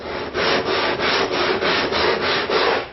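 A wooden aircraft wing sanded with a long board, about eight rhythmic rasping strokes of wood abrasion, close and loud, each pass separated by brief pauses, no talking.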